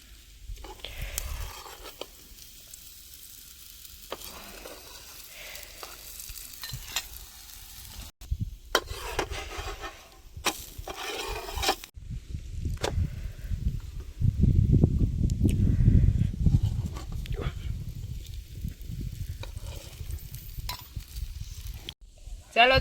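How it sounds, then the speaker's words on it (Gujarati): Pigeon pea (tuvar) paratha cooking in oil in an outdoor farm kitchen, soft intermittent sizzling with clinks of a pan and utensil, growing denser and louder midway, fairly quiet overall. "હવે આપણે એને તેલમાં શેકી નાખશું"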